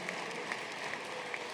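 Steady applause from a banquet audience at an alumni gala honoring Townsend Harris medalists, with dense, even clapping that holds at a constant level throughout.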